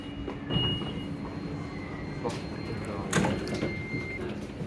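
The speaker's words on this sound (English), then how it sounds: "the last leg of our momentous journey was to be on the humble tram" London tram rolling along on the city network, a steady low rumble with a faint whining tone and a couple of brief clatters or door-like knocks, with some background voices.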